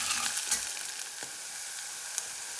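Bottle gourd sautéing with onion-garlic masala in a pan, a steady bright sizzle with faint stirring scrapes and a light clink, close and even throughout, no voices.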